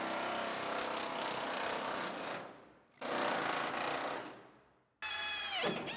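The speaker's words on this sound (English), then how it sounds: "I'm using a flat tip drill bit." A drill with a flat tip bit bores out spot welds on the frame of a 2015 Chevrolet Silverado LTZ, grinding loudly in two long bursts with brief pauses, then a third shorter run that ends in a rising whine.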